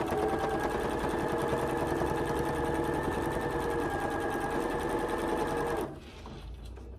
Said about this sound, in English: I'm going to sew it all the way down at a 1/4 inch again